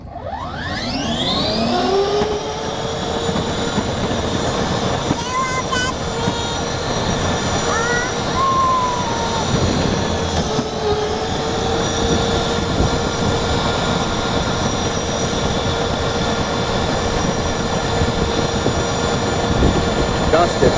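A 40V racing Power Wheels ride-on car drives at speed, its electric motors giving a loud, steady whine with rising tones as it accelerates, sustained throughout and close by.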